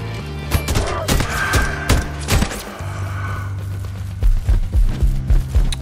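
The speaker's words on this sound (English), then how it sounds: "I see someone and let me shoot him" Rapid gunfire from shooting in the third-person roguelike action game Knights Within: bursts of sharp, punchy shots with thumping impacts, loud and close, firing in uneven volleys that tighten into a quick rhythmic string near the end.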